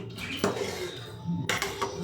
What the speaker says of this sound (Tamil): லைட்டாக கிளறிட்டு தம் போட்டுருவோம்.